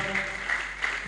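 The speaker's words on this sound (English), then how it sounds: "applause" Audience applause at a live-streamed speech event, a brief steady wash of clapping, fairly faint and distant.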